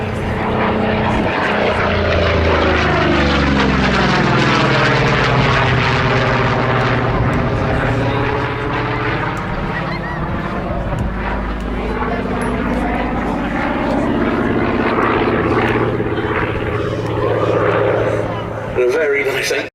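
A Corsair propeller warbird roars past at low level at the Duxford air show, its engine drone swelling loud then fading with a sweeping pitch shift, while a commentator talks over it.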